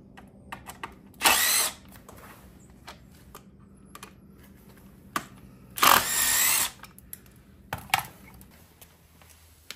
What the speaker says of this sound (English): after those 6 bolts are removed, this should just slide on out